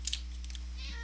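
A cat meows twice in quick succession inside the video game Minecraft, short high cries near the start, followed by faint clicking and quiet background game ambience.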